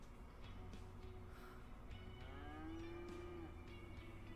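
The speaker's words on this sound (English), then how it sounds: "Why do I keep hearing cows?" Cattle mooing inside the city-building game Cities: Skylines, a long drawn-out low moo rising and falling near the middle, with fainter moos around it over a steady ambient game background, no talking.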